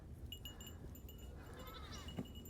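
Goats on a farm bleat in quick succession at a moderate distance, wavering nasal cries over a low outdoor rumble with no talking.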